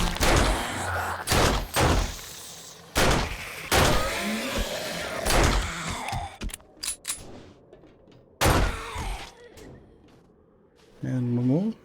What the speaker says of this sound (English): Sounds like they're banging on the door now.